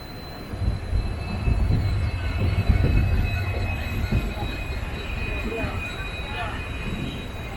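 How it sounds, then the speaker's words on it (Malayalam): The Jan Shatabdi Express rolls into Kumbakonam station with a steady, rumbling rush of wheels and carriages heard from on board, a faint squeal of wheels joining as it slows, with a voice speaking over it. "ഇപ്പോൾ ജസ്റ്റ് കുംഭകോണം സ്റ്റേഷനിലോട്ട് പ്രവേശിക്കുകയാണ്."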